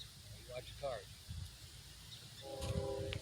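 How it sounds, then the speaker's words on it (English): A train horn sounds in the distance near a road crossing, with brief tonal blasts early on and a longer sustained blast toward the end, faint under nearby talking voices and a low rumbling background. "so I am hearing a horn here at Geyer's, so I'm assuming it's the train"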